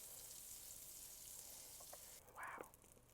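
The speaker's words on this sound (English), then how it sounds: "You hear the sizzle." A grilled cheese sandwich sizzles in butter in a pan, giving a very faint, steady frying hiss. Near the end a short, brighter scrape or clink breaks through.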